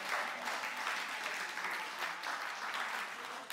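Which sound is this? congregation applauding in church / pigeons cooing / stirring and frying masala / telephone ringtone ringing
congregation applauding in church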